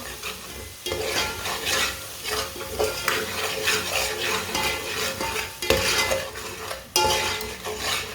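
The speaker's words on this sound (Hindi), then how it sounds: "मसालों को 1 मिनट के लिए पका लेंगे, अच्छी तरह मिक्स करके।" Spices (crushed red chilli, turmeric, whole coriander) sizzle in a hot pan for an aloo palak curry while a spoon stirs and scrapes steadily, with occasional metallic clinks, close and fairly loud throughout.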